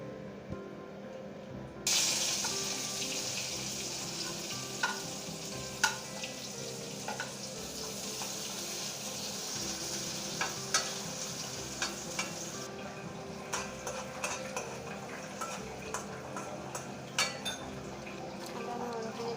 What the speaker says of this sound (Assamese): তেলখিনি গৰম হ'লে মই পিঁয়াজখিনি দি দিম।